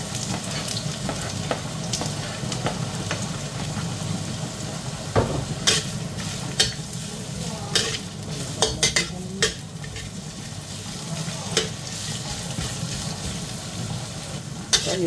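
Cooking oil sizzles steadily in a pan for chicken tinola while a utensil stirs and scrapes, with sharp clinks and taps over the continuous close frying hiss.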